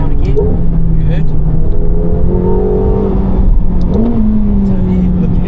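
A McLaren 750S on a race track accelerates under full throttle, its engine note rising loud and steady as the car gathers speed. It plays close up and alone.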